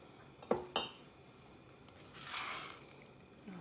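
Metal spoon clanks twice against the side of a pot of homemade chili, then a soft, thick scraping swirl as it is stirred, fairly quiet and close with no talking.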